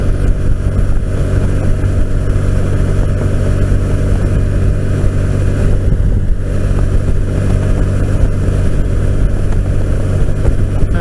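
A motorcycle running on a car tire instead of its usual Kenda motorcycle tire, with a steady loud engine drone and road rumble that holds constant throughout, and no talk.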